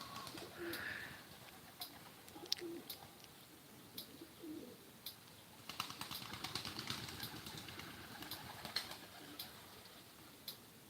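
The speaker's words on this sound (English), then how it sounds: "I got a bird that's sitting over here." A bird coos softly nearby, likely a pigeon or dove, with scattered repeated coos and faint chirps over quiet outdoor background noise.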